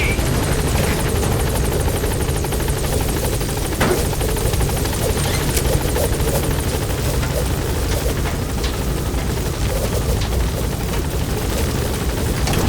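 The Pequod helicopter from Metal Gear Solid V drones loudly and steadily as it comes in to the landing zone. A dense, unbroken rotor roar fills the whole stretch, with faint game sounds beneath it.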